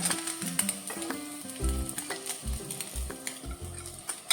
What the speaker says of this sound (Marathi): आता मी हे फिरवून घेवचे आणि हेका बी परतल्यान मात भाजून घेवचे